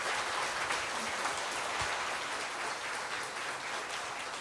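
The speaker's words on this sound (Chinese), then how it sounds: "我希望我们以热烈的掌声感谢宽济念佛堂。" An audience claps in thanks to a Buddhist nianfo hall during a Pure Land dharma talk, a soft, continuous, even patter of hands that is fairly quiet and free of speech.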